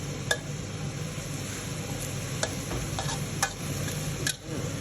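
Chinese kale stir-fried in a pan, a steady sizzling bubble under a few sharp ticks of a utensil against the pan, close and even throughout.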